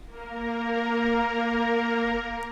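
A single sustained slow-strings keyboard voice note swells softly and holds steady, a smooth synthesized string pad tone alone.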